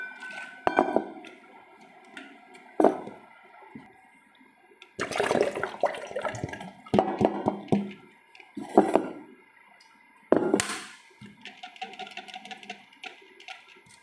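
Water pours into a container in several separate bursts, splashing and gurgling nearby, with quiet gaps and faint drips between the pours.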